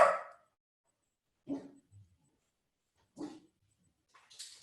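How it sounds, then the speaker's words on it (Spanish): Dogs barking indoors: three separate loud barks spaced about one and a half seconds apart, then a scrape-like noise, with no talk over them. "Por justo ladraron."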